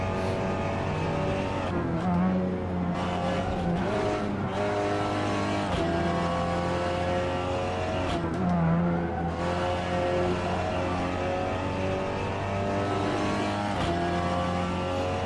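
Seat Leon TCS touring car in Assetto Corsa at Watkins Glen, engine revving steadily up to around 6,500 RPM with gear changes, loud and continuous throughout with brief tire squeal.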